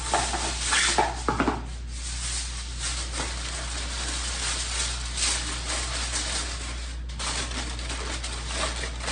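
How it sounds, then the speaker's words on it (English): Aluminum foil being tucked around a roasting turkey, heard as close, continuous crinkling and rubbing at a moderate level with no talk over it. "tuck this foil in and we're ready to go"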